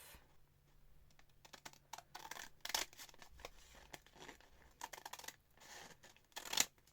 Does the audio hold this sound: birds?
no